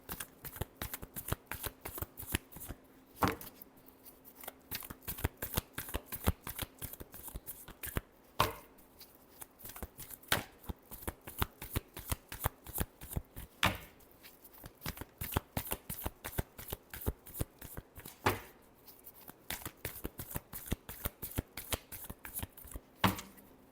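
Tarot cards are shuffled steadily and close up, a continuous run of rapid riffling flicks with brief pauses, over about twenty seconds with no voice.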